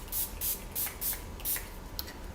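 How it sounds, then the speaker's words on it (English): Urban Decay All Nighter setting spray is spritzed onto a face in a rapid series of about six soft, hissing mists, close and fairly quiet. "Now I'm just going to give my face a quick spritz with my Urban Decay All Nighter setting spray."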